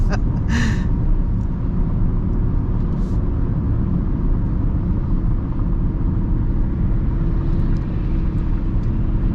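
Inside a 2020 Mazda MX-30 electric car speeding up, steady broadband road and wind roar fills the cabin with a faint electric whine. It stays loud and even throughout, with a brief breathy sound near the start.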